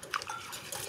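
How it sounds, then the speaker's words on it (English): Wire whisk clinking against a bowl while blending confectioner's sugar into a thick mixture, a brief close scrape and tap over a steady soft swish. "Use a whisk."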